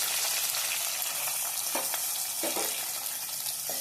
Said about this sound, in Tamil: சேர்த்து நல்லா வதக்கணும்.